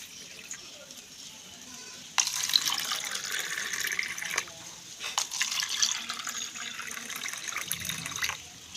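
Freshly made lemon juice is poured into a container in a close, steady splashing stream, with a brief pause before the pouring carries on until near the end.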